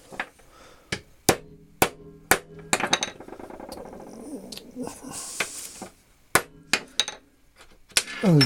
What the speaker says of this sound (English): I'm going to have to hammer it home to keep it tight.